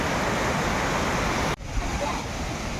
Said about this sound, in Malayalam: ഇവിടെ വെള്ളച്ചാട്ടമുണ്ട്,